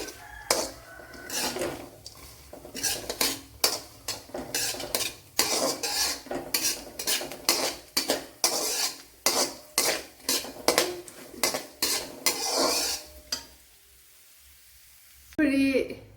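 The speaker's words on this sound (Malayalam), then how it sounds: "ഇത് നെയ്യുണ്ടെങ്കിൽ നെയ്യിൽ ഫ്രൈ ചെയ്തെടുക്കാം" Ghee frying for a Kerala kalathappam snack, with metal utensils repeatedly scraping and clinking against the pan in steady strokes, followed by a quiet pause and a brief burst of sizzle near the end.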